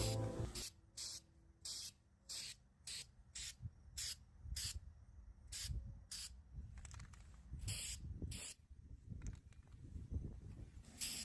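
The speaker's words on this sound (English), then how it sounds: "I'm going to take some of this Rust-Oleum textured spray paint" A can of Rust-Oleum textured spray paint sprays in short, close, hissing bursts with brief pauses between them, followed by a few longer sprays mixed with faint handling noises.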